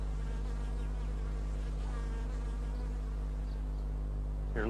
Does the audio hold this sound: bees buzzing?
yes